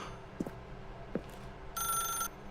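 A telephone rings once inside the video game The Stanley Parable, a short electronic trill heard clearly over a faint ambient hum and a couple of soft clicks.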